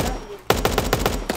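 Loud, rapid automatic bursts from an assault rifle in the video game Super Animal Royale, starting abruptly after a brief quieter moment and continuing as evenly spaced close shots.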